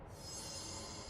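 A train in the video game Control rumbles steadily with a broad, even hiss, a brief continuous roll heard alone.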